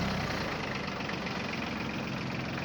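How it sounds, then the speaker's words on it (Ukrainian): Iseki TK25 Japanese used 25 hp mini tractor engine idling evenly, a steady low rumble close by with no breaks, and nobody speaks over it. "рівна робота двигуна"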